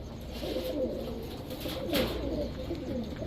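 Domestic pigeons, including a female, coo in low, soft, throaty murmurs, several overlapping calls close by over a steady background hum.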